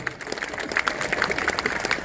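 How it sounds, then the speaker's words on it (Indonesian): Scattered audience applause in a hall during the Bali governor's 2022 year-end address, steady and moderately faint for about two seconds, with a faint voice mixed in. "Tepuk tangan untuk beliau."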